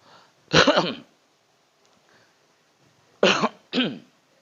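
Three harsh coughs, one near the start and a quick pair a few seconds later, with quiet stillness in between.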